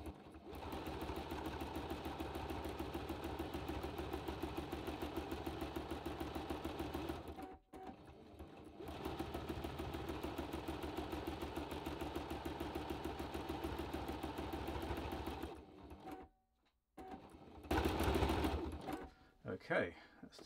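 A Toyota Oekaki 50 sewing machine doing free motion embroidery, its needle chattering in a fast steady run, stopping briefly twice, then a short final burst, with a person talking alongside.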